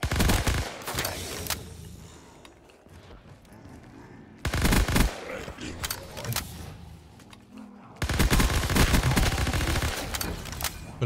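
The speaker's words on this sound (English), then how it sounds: "I love the Tommy gun" A Tommy gun fires in rapid automatic bursts in a Call of Duty Zombies mod, three loud volleys separated by quieter gaps.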